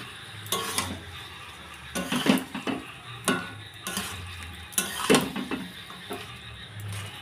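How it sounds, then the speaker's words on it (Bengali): Chicken pieces being stirred with cumin powder in a pot, a series of scraping, clattering stirs against the metal over a faint low sizzle, close and moderately quiet with no talking. "এরপর দিয়ে দিচ্ছি ধুয়ে রাখা মাংসগুলো। ভালো করে নাড়াচাড়া করে নেব।"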